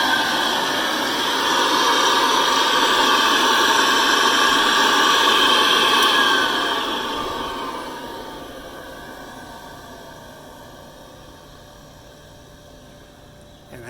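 An old Hoover vacuum cleaner motor runs with a loud, steady whining hum, then is switched off and winds down, its pitch falling gradually into near silence.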